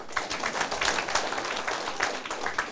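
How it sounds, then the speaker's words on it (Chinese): Scattered audience clapping at a lecture hall session on Taiwanese politics: a steady, moderately faint patter of many hands, with no voices over it. "拍手我再要讲。"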